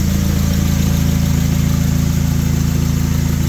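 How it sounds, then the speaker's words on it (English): A Honda K-series engine swapped into a Volkswagen MK4 and managed by a FuelTech FT450 idles steadily up close, a loud, even pulsing drone with no voices. "So, we got the K Series running on FT450 Volkswagen Swap"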